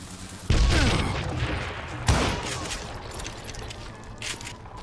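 Two heavy dynamite blasts boom close by in Call of Juarez: Gunslinger, the first striking hard near the start and the second a couple of seconds later, with scattered gunfire and rumbling debris lingering between and after them.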